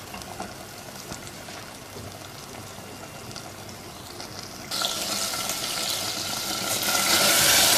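Water cooking off uncovered in a mutton handi roast, Punjabi village style, a steady broadband hiss and bubbling sizzle that grows louder and brighter partway through and keeps building to the end, with no talk.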